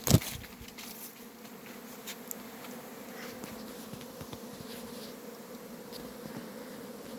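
Honey bees work at their hives outdoors in a dense, continuous buzzing drone. Individual insects zip past close by, and a single thump sounds at the very start, with no talking.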